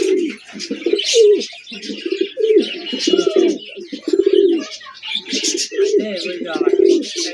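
Modena King pigeons coo in a shop in Gazipur, a close, repeated run of throaty, rolling calls in short bursts, with chirps and a voice mixed in among them.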